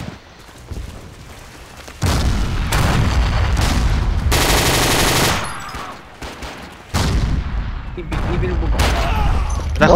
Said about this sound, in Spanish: ¿a dónde está disparándome?